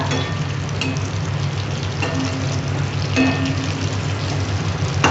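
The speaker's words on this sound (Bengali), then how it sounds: "একটু ভাজা ভাজা লাল লাল হয়ে গেলে আমি তুলে নেব।" Yam kofta balls fry in hot oil with a steady, even sizzle that holds throughout, close and alone without any talk.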